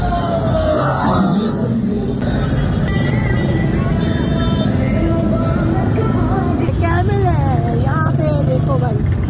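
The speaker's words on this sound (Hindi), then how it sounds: "इतना ज़्यादा ट्रैफिक हो रहा है।" Heavy road traffic at a congested spot near iftar time, with cars, donkey carts and camel carts mixed in; a steady dense rumble of engines and crowd noise continues throughout, with people talking over it.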